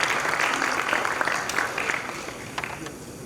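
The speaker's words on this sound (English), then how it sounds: "A huge round of applause" Applause from an event audience at the launch of an automotive technology centre in India, broad steady clapping that stays fairly even for a few seconds before easing slightly.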